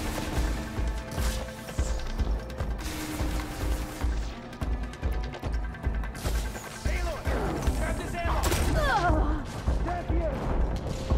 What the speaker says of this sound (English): Goddamn Ravager cannon.